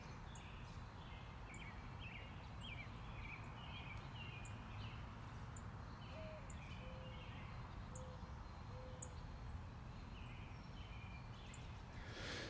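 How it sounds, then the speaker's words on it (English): A small bird chirps and tweets in repeated short bursts close by in a quiet residential neighborhood in the morning, with steady outdoor background noise throughout. "And there's this bird that's twitting right here."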